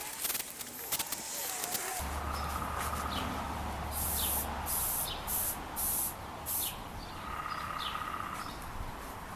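A steady hissing spray from an aerosol paint can runs through most of the clip, with short pauses, while birds chirp faintly outdoors in the background.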